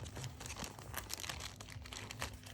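Close, continuous crinkling and rustling of a plastic bag, with irregular crackles over a low background hum.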